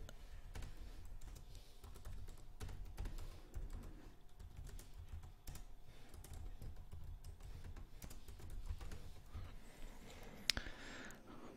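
Typing on a computer keyboard: steady clusters of close, quiet key clicks, a burst of taps in an irregular rhythm that continues throughout, with no talking.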